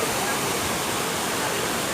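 A waterfall at Pedra do Altar in Barra de Santana, Brazil roars steadily, a dense unbroken rush of falling water filling the whole clip at close range.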